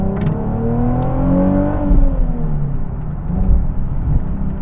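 A Nissan 370Z Nismo's VQ engine revs hard and climbs in pitch, a loud, raspy, screamy exhaust note with no voices.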